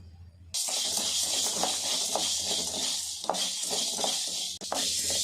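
About fifty grams of Kerala black pepper are dry-roasted in a pan, starting with a sudden steady sizzling hiss and faint rattling and stirring scrapes underneath, close and continuous with no talk.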